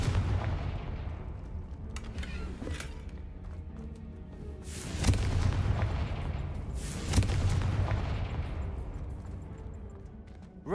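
Booming Confringo spell blasts in a Harry Potter video game, with low rumbling impacts and two sharper explosive bursts over a continuous roaring background.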